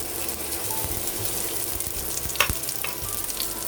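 Seafood pancake batter with soy sauce fries in a preheated frying pan, a steady close sizzle and crackle with small pops and a light scrape near the middle, no voices.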